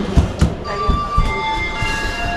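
A Kanyakumari Express train standing at a station, heard nearby as a few heavy rumbling knocks followed by a sustained high metallic whine and squeal, loud with no talk.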